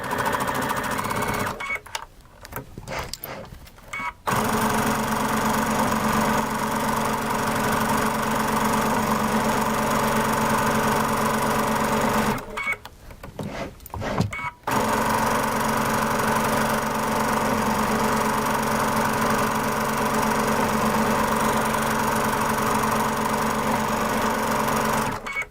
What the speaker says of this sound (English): So let's get to stitching